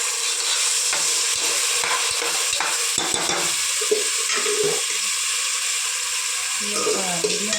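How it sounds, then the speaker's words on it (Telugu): Soaked rice and moong dal are stirred into a pot for temple-style pepper pongal, giving a steady scraping, sizzling stir that runs throughout at close range, with no talk. "మనము నానబెట్టుకున్న బియ్యం పెసరపప్పు దీంట్లో యాడ్ చేసుకోవాలి."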